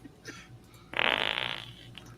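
A fart sound effect for the beans campfire scene in Blazing Saddles: a single loud, wet, rasping blast lasting under a second after a faint earlier squeak, with no talk.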